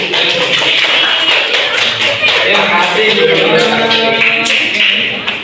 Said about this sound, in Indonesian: Oke, tepuk tangan yang meriah, bagus sudah